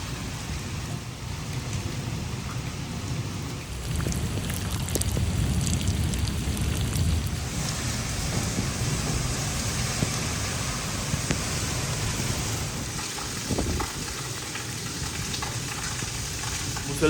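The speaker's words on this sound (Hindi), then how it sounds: "मुसलसल 1 घंटे से बारिश हो रही है" Steady heavy rain with thunder hisses throughout in a village, a dense broadband wash that swells louder midway, with low rumbling underneath; no voices.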